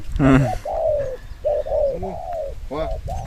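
A caged dove at a bird-calling contest gives a series of close, loud, rhythmic coos in short phrases with brief pauses between them.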